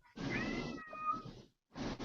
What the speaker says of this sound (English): I heard a Cat. cat.